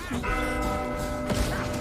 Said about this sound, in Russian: Это колокол.